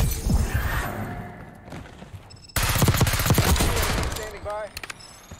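Bursts of automatic gunfire from an AS VAL rifle in Black Ops 6, close and loud. A first volley fades, then a harsher sustained burst follows, ending in a few scattered shots, with faint game noise underneath.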